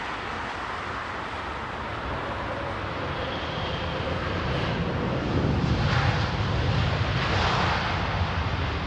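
A jet aircraft taxis at Heathrow Airport, its engine roar a steady broadband rumble that swells slightly louder over the second half, heard alone without talk.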